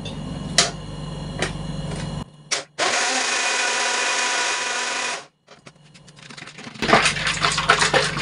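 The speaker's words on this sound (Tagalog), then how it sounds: "Then, blender ulit." A blender whirring an ice candy mixture roars in one loud, steady burst of about two and a half seconds after a few clicks, then cuts off and is followed by clattering handling noise.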